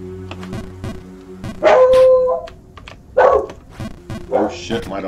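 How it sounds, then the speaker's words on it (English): A dog barks frantically in short bursts of barks and yips mixed with a whimper, loud and fairly close, with a person talking over and between the barks. "my dog's going mental"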